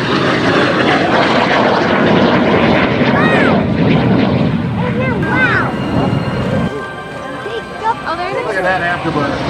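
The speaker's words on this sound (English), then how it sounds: "Look at that afterburner." A military jet passes in a loud flyby with its afterburner lit at an air show, a broad roaring rush that swells and fades, mixed with crowd noise and a voice talking.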